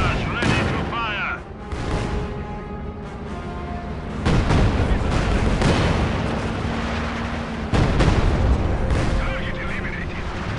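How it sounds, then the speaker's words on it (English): Artillery barrage from a Company of Heroes 2 Eastern Front battle: repeated loud booming blasts, with heavy impacts rolling in around four and eight seconds, layered over a dense wash of battlefield noise. "Artillery barrage ready to fire."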